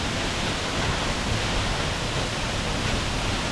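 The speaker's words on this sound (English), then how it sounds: "The Jeruk Manis waterfall." Jeruk Manis waterfall in Indonesia, a steady, dense roar of falling water, loud and constant throughout with no voices over it.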